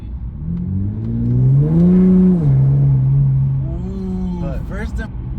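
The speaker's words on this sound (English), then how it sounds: "you could hear them turbos so clear." An Infiniti Q60 Red Sport with Stillen intakes accelerates, its engine note and turbos rising in pitch through the gears, loud and close, then easing off, with a brief voice at the end.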